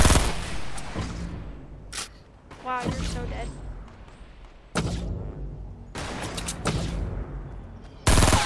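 Video game gunfire in repeated loud bursts of rapid shots, separated by short quiet gaps, close and harsh against a faint background.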